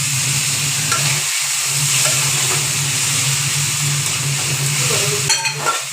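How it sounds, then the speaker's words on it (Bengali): Green chili paste frying in a pan hisses and sizzles steadily as water is poured in, a loud continuous bubbling spatter with faint stirring scrapes. "এবার একটু জল দেবো এতে।"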